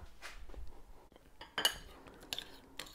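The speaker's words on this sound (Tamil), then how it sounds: "ரெண்டுத்தையும் போட்டு நல்லா மிக்ஸ் பண்ணலாம்." A spoon faintly clinks and scrapes against a bowl while whipped cream and strawberries are folded together, with a few sharper taps scattered through.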